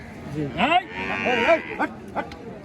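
A Nili-Ravi buffalo at a busy cattle market lets out a couple of loud, wavering lows at close range, with a few shorter calls after them against the crowd murmur.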